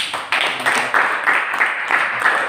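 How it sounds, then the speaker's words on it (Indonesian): Applause breaks out in a classroom-style gathering for a student named Mas Cecep, a short burst of steady clapping from a small group, moderately loud and continuous with no talk over it. "Berikan tepuk tangan pada Mas Cecep"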